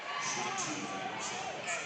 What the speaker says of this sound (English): We're right here in the middle of the Collegiate crowd.